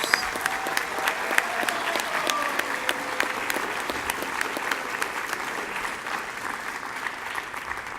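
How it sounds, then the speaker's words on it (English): A large school-district audience applauds career and technology teachers at an awards event, a dense, steady round of clapping that holds at an even level for the whole stretch. "So would all of our career and technology teachers please stand for a round of applause?"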